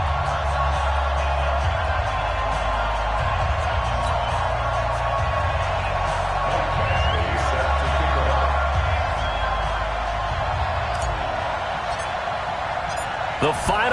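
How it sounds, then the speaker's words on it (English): Stadium crowd at a Denver Broncos versus Oakland Raiders NFL game in an EA Sports football video game, a steady broad roar of spectators filling the background, with a commentator speaking over it. "This crowd is ready as their guys get set to match up between the Denver Broncos and the Oakland Raiders."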